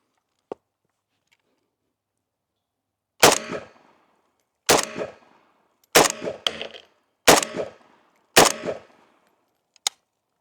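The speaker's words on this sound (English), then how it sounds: "Yeah, so first shots." Five loud rifle shots from a Palmetto AK-pattern rifle, each a sharp crack with a short ringing tail, spaced about a second or more apart, with a faint click before and after.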